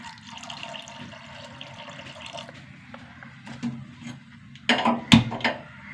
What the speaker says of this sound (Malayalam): കുറച്ചും കൂടി വെള്ളം ഒഴിച്ച് കൊടുക്കുക